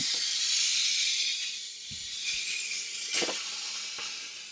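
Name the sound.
pressure cooker releasing steam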